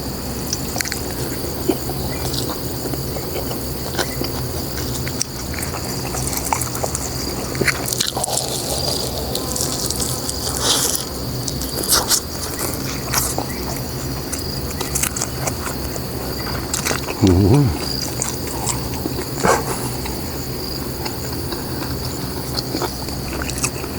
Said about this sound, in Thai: เป็นเสียง อ่างเก็บน้ำเปิดกันลัง ระบายน้ำเนอะเพราะว่า ฝนตก